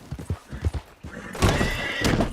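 Horse in the video game Red Dead Redemption 2 clip-clops a few quick hoofbeats, then lets out a loud, close, drawn-out whinny with a second rising neigh at the end.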